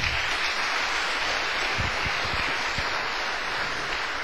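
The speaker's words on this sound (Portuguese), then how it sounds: "Quem pode dar uma salva de palmas para o Senhor?" Congregation clapping for the Lord during a church service, a steady dense wash of applause that stays loud and even throughout, with no talk over it.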